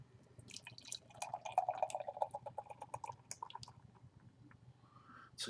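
Milk stout beer glugs from a can into a glass, a gurgling, bubbling pour building over a few seconds and then trailing off into faint fizz.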